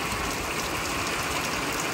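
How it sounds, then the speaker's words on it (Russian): Light rain falling outdoors at a lake in Karelia, a steady soft hiss of drops spread evenly across the whole stretch with no distinct splashes, close and continuous. "Да, небольшой дождик."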